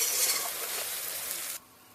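Spice paste for a Bengali meat curry sizzles in hot oil as it is stirred in a pan, a bright hissing fry that runs steadily and then drops away abruptly near the end.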